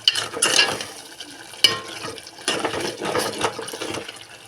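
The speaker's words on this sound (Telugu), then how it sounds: "ఉప్పు వేసేసాను వేసేసి ఇప్పుడు ఇలా కలపెట్టేసుకుని" Salted cucumber chutney is stirred in a pot, with wet, squelching mixing sounds coming in close bursts and a sharp spoon tap against the side.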